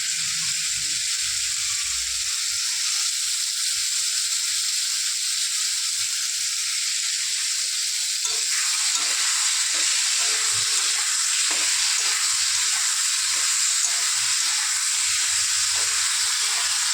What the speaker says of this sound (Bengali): ঝিঙেটা ভাজা হয়ে গেছে এখন দেব পেঁয়াজ লঙ্কা আর হচ্ছে সর্ষে বাটা